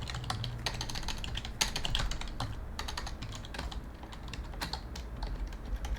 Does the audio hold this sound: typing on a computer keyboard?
yes